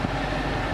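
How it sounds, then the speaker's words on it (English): A 2016 Dodge Challenger R/T with a 5.7 V8 idles in a steady low drone heard from the cabin, with the air-conditioning blower adding a continuous broadband whoosh throughout. "this is what it sounds like inside when we're idling and the air conditioner blower is going"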